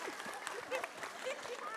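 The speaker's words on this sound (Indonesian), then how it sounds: "Tepuk tangan Ustadz Maulana" A congregation at an Islamic lecture applauds a preacher: brief, fairly faint clapping that sits under a voice talking over it.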